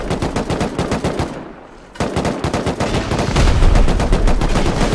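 Rapid machine gun fire in a video game, loud and close, in long sustained bursts with a brief pause before the shooting resumes even heavier.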